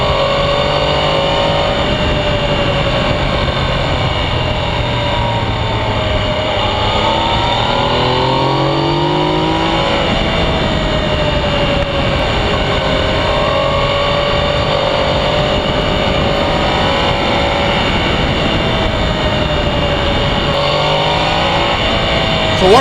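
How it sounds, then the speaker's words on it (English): Mechanical engine noise from the top of a vehicle engine, picked up through a camera mount, drones loudly and steadily throughout with shifting whining tones rising and falling as if revving. "It picks up a lot of mechanical noise coming out of the top of the engine."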